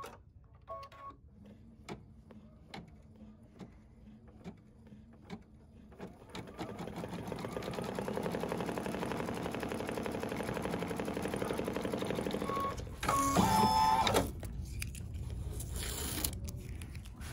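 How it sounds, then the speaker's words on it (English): Embroidery machine stitching a snowflake design on a winter soap wrap, starting with a few isolated stitch clicks and then settling into a steady, fast rhythmic chatter of needle strokes, close and fairly loud with no talking. "embroider the snowflake color"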